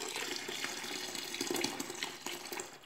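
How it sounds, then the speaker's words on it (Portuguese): Water gushing steadily into a pot while making liquid bleach soap from a bar of soap, a continuous splashing pour at moderate distance with no talking. "aqui tem 5 litros d'água aqui e tô colocando"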